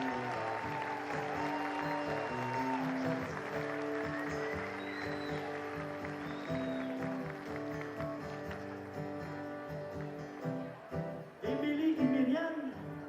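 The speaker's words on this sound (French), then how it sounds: "Mesdames et messieurs, on applaudit les 2 demoiselles" A crowd claps steadily throughout, with music playing underneath and the clapping swelling briefly near the end.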